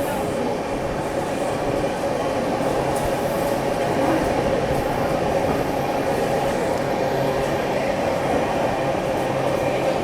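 Mumbai Central to Hapa Duranto Express running through Surat station, a constant loud rumble and rattle of the coach heard from inside, steady with no pauses.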